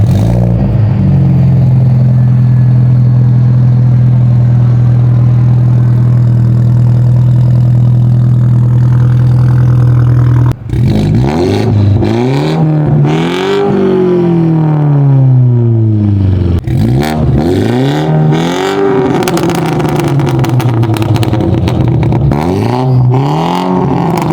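Modified BMW 330i with Stage 2 tuning, fired from cold: a loud, steady high idle that drops away, then repeated sharp revs rising and falling, close and loud with no talking.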